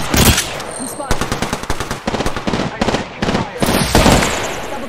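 Rapid automatic gunfire from the video game Apex Legends fills the scene, dense loud bursts of shots in fast rhythm with brief gaps, and voices call out beneath the firing.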